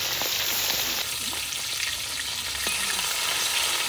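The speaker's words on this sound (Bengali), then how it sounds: "তেল কই করার জন্য প্রথমে মাছগুলো আমি ভেজে নেবো" Whole koi fish (climbing perch) frying in hot oil for a tel koi dish, a loud, steady, close sizzle with faint crackles running throughout, no voices.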